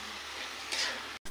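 Food stirred as it cooks in a pan over a clay stove at a picnic, a continuous soft sizzle with a brief scraping swell and a sudden short cut near the end.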